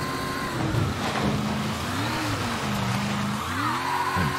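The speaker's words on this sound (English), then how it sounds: "Sounds like an electric car." A car engine in the video game Mafia 3 whines and revs like an electric car, pitch sweeping up and down as it accelerates, steady and fairly close with no talking.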